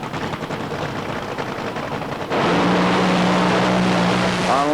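A nitro drag racer engine roars loud and close during a run at Hockenheim, surging sharply into a sustained, ragged, deafening howl about halfway through that holds to the end.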